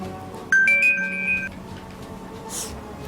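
A phone rings with a short electronic tone lasting about a second, fairly clear over a faint background hum, followed by quieter room sound.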